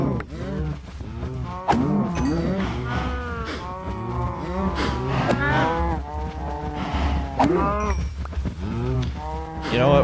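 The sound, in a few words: cows mooing in a video game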